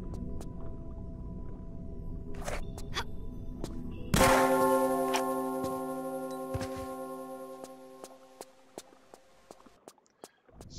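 In a Tomb Raider custom level set in a Himalayan monastery, a bell rings out sharply after being shot, striking once with a bright clang and then a long, slowly fading ringing tone over quiet game ambience.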